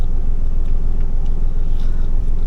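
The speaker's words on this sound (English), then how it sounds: "Now then, I'm just going to move the car out of the way." A car engine runs steadily as the car is moved out of the way during a driving lesson, giving an even, continuous low rumble close by with no talking.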